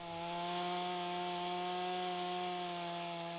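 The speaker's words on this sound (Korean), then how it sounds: "전기톱을 사용해 윗면을 고르게 합니다" An electric chainsaw cuts across the top of a log to level it for an outdoor Buddhist cremation pyre at a temple, giving a loud, steady, close whine that holds without a break and has no voices over it.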